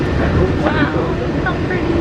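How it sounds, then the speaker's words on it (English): A Walt Disney World monorail ride gives a loud, steady, low rumble from the car, with people talking over it. "We're gonna take the monorail."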